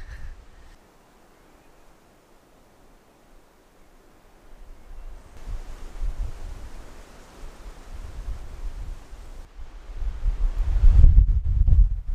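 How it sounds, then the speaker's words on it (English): Wind buffets the microphone on a hillside mountain camp, quiet at first and then rising into strong, rumbling gusts that grow louder toward the end. "Still windy."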